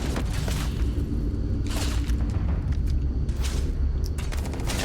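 Laser turret fire in the game Starfield comes as dense, rumbling bursts of booming shots at close range. Sharper cracks cut through at intervals over a steady low roar of gunfire.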